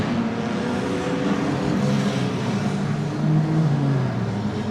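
Stockcars racing a heat at Oceanview, engines roaring in a continuous loud drone that swells slightly as cars pass, with no talk over it.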